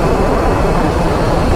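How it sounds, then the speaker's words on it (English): Deep, boomy exhaust drone from a 2023 Triumph Street Triple 765RS motorcycle, its opened-up stock exhaust rumbling steadily and loudly close by for a short stretch, no voices. "certainly the exhaust has opened up since I first jumped on this. It's definitely got a bit boomier."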